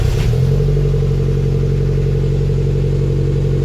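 A Toyota MR2 Turbo engine cranks and fires up, then settles into a loud, steady idle with a strong low drone, close by with no talking.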